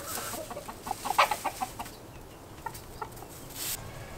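A flock of chickens clucks in a quick series of sharp, close calls that fade into softer, scattered clucks, with turkeys nearby in the yard.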